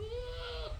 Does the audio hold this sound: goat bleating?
yes